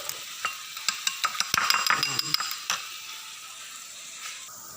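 Two eggs being scrambled in a pan, with a utensil scraping and clicking against the metal in quick bursts over a faint sizzle, growing busier in the middle and then fading to a quiet hiss.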